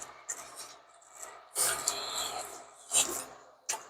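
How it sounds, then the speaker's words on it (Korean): Construction work near a seaside restaurant on an island yields intermittent rasping, rubbing scrapes in several bursts, moderately loud against a quiet background. "갑자기 이쪽에서 개장을 이제 앞두고 있나 봐요. 그래서 공사를 하고 있어서 조금 다소 시끄럽습니다."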